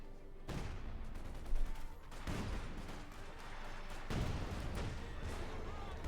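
A Panther tank firing at infantry in the Company of Heroes 2 strategy game, with several sharp cannon blasts and gunfire bursts spread over a steady battlefield din, fairly quiet overall.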